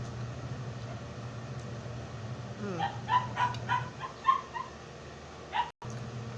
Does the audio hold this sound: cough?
no